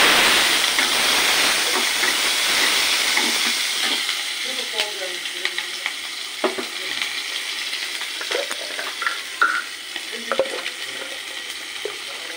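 Onion dropped into hot oil in a karai sizzles loudly at first, then settles into a steady crackling fry with scraping stirs and small pops.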